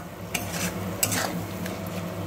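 Fish oil with coriander powder being stirred and fried in a pan for a Bengali fish-oil chorchori, with a steady sizzle and loud metal utensil scrapes and clinks close by, no talking.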